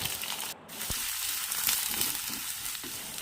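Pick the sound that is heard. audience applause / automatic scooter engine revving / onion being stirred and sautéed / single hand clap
onion being stirred and sautéed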